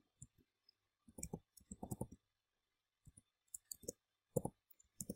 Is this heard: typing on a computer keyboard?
yes